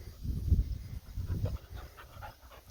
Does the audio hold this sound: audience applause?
no